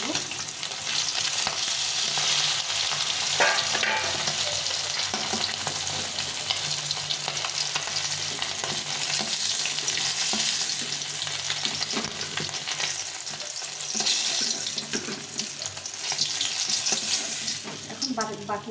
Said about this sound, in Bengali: এখন বাকি মাছগুলো ভেজে নেব।